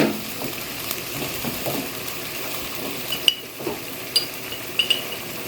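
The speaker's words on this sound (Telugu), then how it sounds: "ఇదిగోండి చక్కగా వేగిపోయింది చికెను" Chicken pieces for biryani fry in a pan with a continuous moderate sizzle, while a spatula stirs and clinks against the metal now and then.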